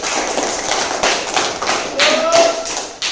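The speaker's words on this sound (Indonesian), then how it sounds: "Tepuk tangan dulu untuk kelompok 2." Students in a classroom clap for a group, scattered loose claps and taps from a small crowd with uneven bursts, and voices talk over them partway through.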